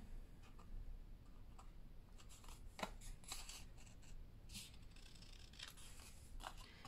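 Scissors snipping through paper while making a gift card holder, a quiet series of small, irregular crisp cuts and rustles, close and faint, with no talking.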